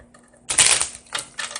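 A deck of tarot cards is shuffled by hand, giving a close, brisk riffling burst followed by two shorter flutters, with no talk.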